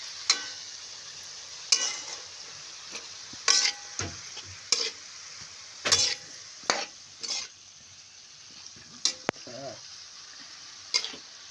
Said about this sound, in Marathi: हा आपला कोबूचा कांदा होऊ राहिला आहे